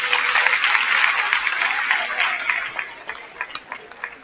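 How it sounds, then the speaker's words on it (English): An audience applauds graduates at a graduation ceremony, steady dense clapping that fills the space, then thins into scattered claps toward the end. "let's give them a round of applause"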